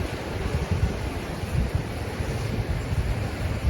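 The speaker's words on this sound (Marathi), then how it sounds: "और हम आ गए हैं समुद्रों के बीच में." Sea waves rolling onto the beach at Shreevardhan, a steady low roar of surf with wind buffeting the microphone throughout, fairly loud and continuous with no voices.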